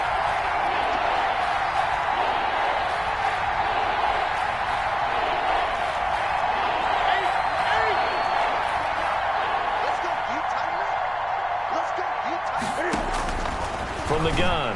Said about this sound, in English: And this crowd urging on their defense.